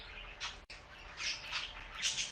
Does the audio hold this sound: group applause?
no